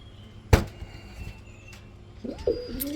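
Gorra Golla, Rajgolla and fancy pigeons cooing at a bird sale, a couple of soft rolling coos near the end after a sharp knock, with little else around.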